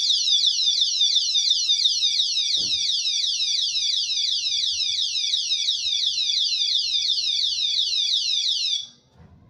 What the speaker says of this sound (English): here's what the alarm sounds like